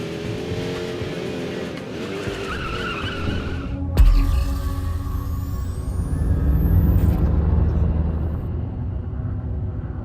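Car skidding in the open-world racing video game Fuel: loud engine roar with tire squeal, a sharp impact-like burst midway, then sustained rumbling drive and skidding, with no talk.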